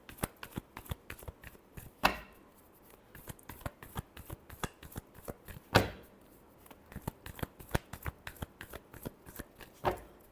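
Tarot cards are shuffled by hand in quick, crisp riffles and flicks, close and dry, with a few sharper slaps standing out; no one talks.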